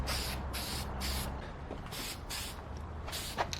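Aerosol spray paint hissing onto an intake manifold for a second coat, six short even bursts in a steady rhythm, close and fairly quiet.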